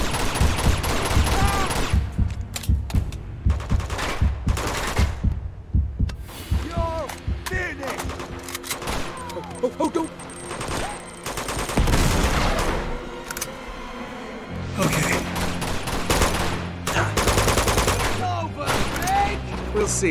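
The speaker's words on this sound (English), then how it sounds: "Who's shooting?" Rapid gunfire in Uncharted 2: Among Thieves, dense fusillades and sharp shots from close by arriving in repeated bursts with short lulls between them, mixed with game voices and effects.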